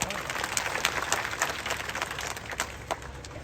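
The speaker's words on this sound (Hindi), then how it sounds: "तो इसके लिए बहुत सारी तालियां बजाओ एक बार।" A crowd at a public gathering in Singar village, Nuh, applauds: dense, continuous clapping from many hands fills the space, with voices mixed underneath throughout.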